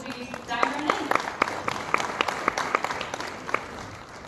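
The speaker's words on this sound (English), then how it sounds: "please give me a round of applause as we dive right in" An audience at a library association workshop gives a round of applause, steady overlapping clapping from a room of people, moderately loud and continuous for a few seconds.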